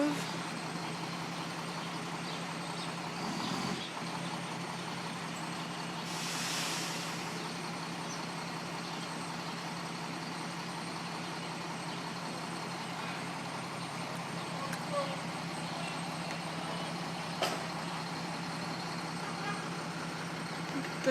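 A truck engine idles steadily in a snowy New York street after a snowstorm, a low continuous hum with faint passing noises and a brief spoken remark partway through.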